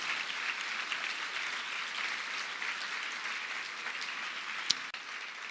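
Sustained audience applause at a church service, a dense even patter of many hands clapping at moderate distance, steady throughout with no voices.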